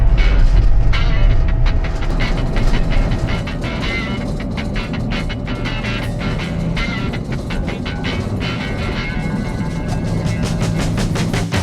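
Manchester Bee Network tram pulling out of Piccadilly at sunrise with a full load, loud continuous rolling rumble and a burst of rapid rail clicks and clatter as it gathers pace, no talk.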